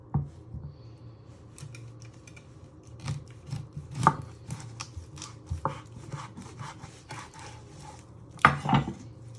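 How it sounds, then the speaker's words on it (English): A knife chops a cucumber on a board while lamb kebabs are prepared, with irregular, close, crisp thuds and cuts spread over several seconds, under a low steady background hum and with no voices. "Then you chop it down the middle."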